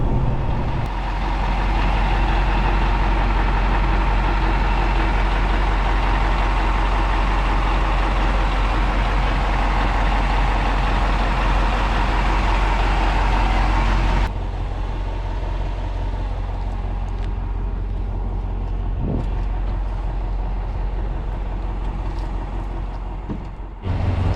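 A MAZ fire tanker truck engine runs loud and steady, a deep droning rumble that drops to a quieter idle partway through.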